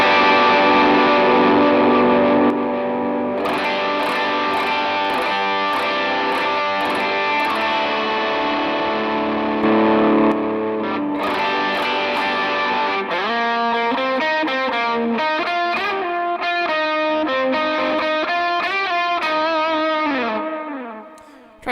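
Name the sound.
electric guitar played through Teddy tone effects patch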